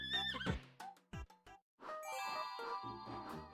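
A horse whinnies in the Miitopia video game, a loud descending neigh followed by short snorts, then bright chiming jingles ring out in a sparkling game sound effect, with no talking.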